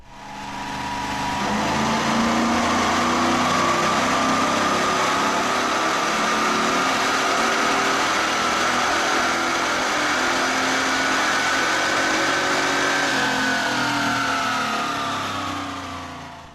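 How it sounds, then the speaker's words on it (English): A GM LT1 V8 car fitted with a 58mm BBK throttle body runs on a chassis dyno, the engine building steadily in a long sustained pull with rising pitch, loud and close, then easing off at the end. "Let's run this car on the dyno to see what the 58mm BBK throttle body did for this LT1."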